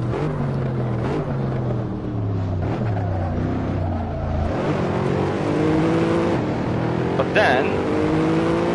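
A race car accelerates hard in the Assetto Corsa racing game, its engine note climbing through gears with other cars' engines around it, loud and continuous, with someone briefly talking over it.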